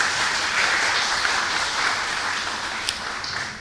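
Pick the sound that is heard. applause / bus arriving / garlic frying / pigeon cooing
applause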